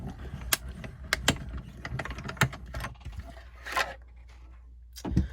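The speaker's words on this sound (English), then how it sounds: "And then we're just going to run it through the cut and emboss machine." A small cut and emboss machine cranking a card through, with a series of ratcheting mechanical clicks and clatters at close range, ending in a louder clunk.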